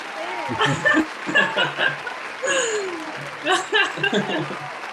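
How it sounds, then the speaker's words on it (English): Audience applause rises as guests are welcomed onto a stage at a directors' guild talk event, a diffuse patter running beneath several voices chatting and laughing close by over about five seconds. "It wouldn't be right without the applause"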